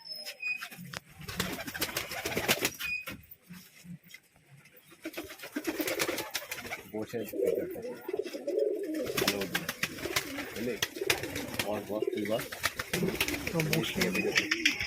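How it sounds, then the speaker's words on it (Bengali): A flock of released high-flying pigeons coos steadily nearby, overlapping throaty calls with wing flaps and rustling throughout, under intermittent talk. "সব কবুতর ছেড়ে দিয়েছে"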